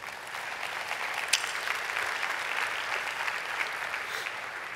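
Audience at a church sermon clapping steadily, a dense, even wash of applause filling the room without pause and no voices over it.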